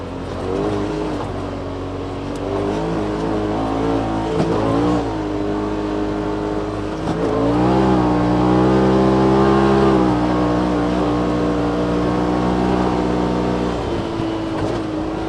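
A 2018 Polaris RZR XP Turbo off-road vehicle with a Shock Therapy Level 4 spring kit drives steadily, its turbo engine droning loud and close and rising in pitch as it accelerates, with no one speaking.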